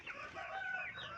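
A shed of fifteen-day-old broiler chickens on litter gives off continuous overlapping high cheeps and chirps from many birds at once, steady and fairly close.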